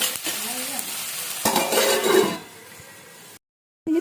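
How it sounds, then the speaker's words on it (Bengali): Salted fish frying in a pan, with bursts of sizzling and scraping stir sounds for a few seconds before a short silence and a resumed crackle. "ভালো করে ভেজে নেবো"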